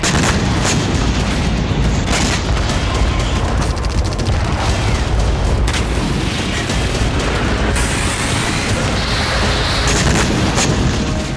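Heavy rumbling blasts and booms of missile explosions roll continuously, loud and dense, with sharp cracks punctuating a constant low roar.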